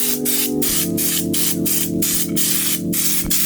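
A loud, steady paint spray gun roars in a spray booth while painting an old Toyota, with a constant mechanical hum underneath, pulsing in a regular rhythm about three times a second.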